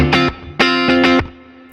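Short bursts of distorted electric guitar chords through a ducking reverb effect stop abruptly, and the reverb tail swells up only once the playing stops.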